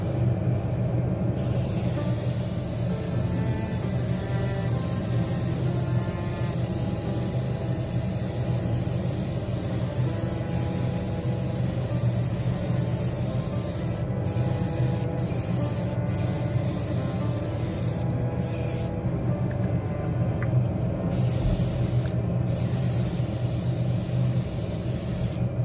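An airbrush lays down a two-component clear coat mixed with hardener and thinner on a 1/24 scale BMW M4 G82 widebody model, a steady continuous hiss of spray running close and unbroken throughout, with no talking.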